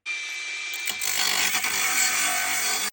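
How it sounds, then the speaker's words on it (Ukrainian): An angle grinder starts up with a whine, then cuts into a car wheel bearing while a BMW brake disc shield is being replaced. The cut gives a loud, close, sustained metallic screech. "Беремо булгарку і розрізаємо."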